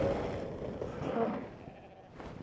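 Goats bleat on a farm, a drawn-out wavering call close by over low rustling and background noise, with no talk over it.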